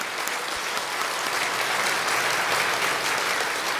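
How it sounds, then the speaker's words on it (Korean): A church congregation applauds in a dense, steady wash of clapping that holds at an even loudness throughout, with no voices standing out above it. "우리 감사하다고 박수 한번"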